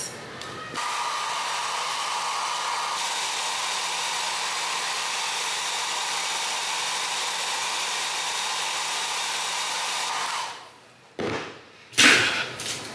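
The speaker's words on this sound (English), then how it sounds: "you gotta blow dry and press it all in" A hair dryer blowing on a lace wig during a 30-inch red-ginger jerry curl install: a loud, steady whooshing whir that holds for about ten seconds, then cuts off, followed by a couple of brief knocks.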